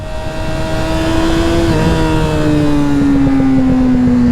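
A Yamaha R6 sport motorcycle engine revs loudly and steadily up close, its pitch sliding through gear changes, with faint exhaust pops mixed into the roar.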